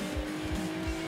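Off-road car engine in the racing game Forza Horizon 3, a loud, steady revving drone with tire noise, close and continuous.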